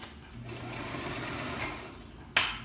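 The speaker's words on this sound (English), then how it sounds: "I'm just sewing straight over it" A sewing machine stitches a straight line across a not-too-thick pillow cover fabric, a steady close whirring hum for a couple of seconds, ending with a sharp click.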